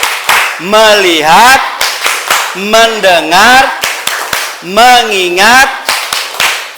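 Elementary classroom clapping chant during a science lesson, with children chanting rhythmically in unison between bursts of sharp synchronized claps, loud and close, repeated in three short phrases.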